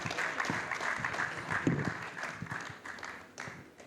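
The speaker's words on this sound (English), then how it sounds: "So please give a warm round of applause welcoming Professor Stephan Dercon as he joins us virtually." An audience at a development-economics event applauds to welcome a professor joining virtually, a loose scatter of claps at moderate level that thins toward the end.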